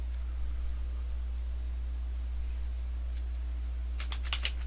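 A computer keyboard tapped in a short, quick burst of keystrokes near the end, after a stretch of quiet room hum; the typing is close and fairly soft.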